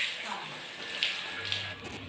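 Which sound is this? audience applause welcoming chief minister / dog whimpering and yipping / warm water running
warm water running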